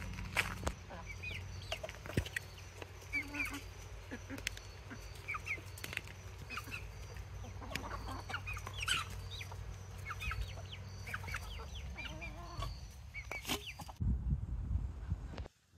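Backyard chickens cluck and chatter while pecking at leftover scraps including apple, with scattered close calls over a steady outdoor background, ending in a brief louder rustle.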